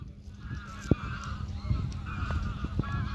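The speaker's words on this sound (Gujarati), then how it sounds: "એ પાકિસ્તાની બતકો" A flock of ducks flying overhead gives repeated honking calls over a steady low outdoor rumble, the calls rising and fading at moderate distance.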